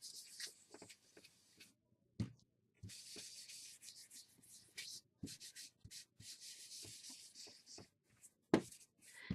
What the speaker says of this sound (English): we're going to use the Ink Essential tool to put some ink on there, and we're just going to rub it on this extra piece